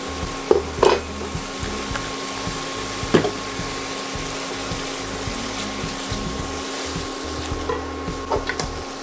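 Steady sizzling of samosa filling with sliced chilli frying in a pan, with occasional scraping clinks of a spoon stirring through it, no voices.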